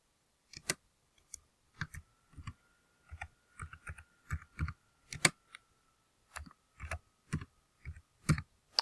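Keys on a computer keyboard are tapped in short, irregular clusters, close and fairly quiet, with pauses between bursts and no talking.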